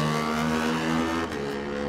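A Kawasaki race motorcycle setting off from the start at the Isle of Man TT Supertwin race, its engine held at a high steady note before it drops as the bike pulls away, close by.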